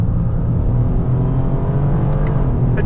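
A 2025 Toyota GR Corolla with an automatic gearbox accelerates hard, its engine and exhaust giving a steady, loud, close drone that stays continuous without pause.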